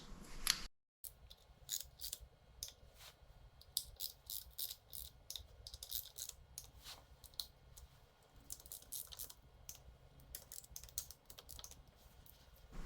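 Torque wrench tightening the valve cover bolts on a Yamaha Road Star Silverado motorcycle, heard as quiet, rapid ratcheting clicks in irregular bursts over a faint background hum, close up.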